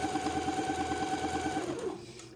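A sewing machine runs steadily through the second pass of a French seam on a little white dress, its fast even stitching hum close and continuous before slowing and stopping near the end.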